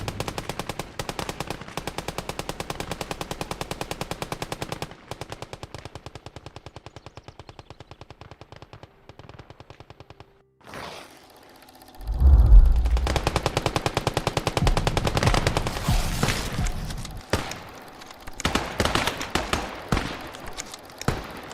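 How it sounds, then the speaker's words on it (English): Sustained, rapid machine gun bursts from an MG nest in a World War II video game rattle loudly and continuously, then give way to heavier blasts and mixed battlefield gunfire. "There is an MG pinning our boys down."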